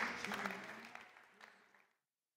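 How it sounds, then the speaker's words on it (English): A burst of audience applause, dense clapping that gradually thins out and fades to silence after a couple of seconds. "Please give a big applause for Martin Schichtel from KRAFTBLOCK."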